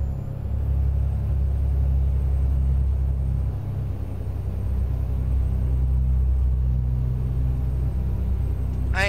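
Modded Detroit engine in a 2018 truck in American Truck Simulator, a steady deep diesel drone under the cab, continuous rumble with a brief rising whine at the very end.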